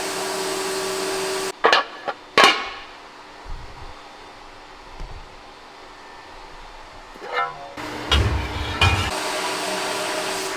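Sandblasting car valve covers from a supercharged BMW M3 produces loud, close bursts of harsh hissing blast, separated by short pauses and quieter stretches.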